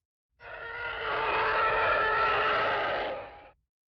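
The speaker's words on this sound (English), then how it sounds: "Fable felt a chill as her ears recognized the distinct sounds of a shuttle flying overhead." A shuttle with exhaust boosters and an ion drive passes overhead, giving one sustained, loud, shrill whine that swells in, holds steady for about three seconds and cuts off, with nothing else heard.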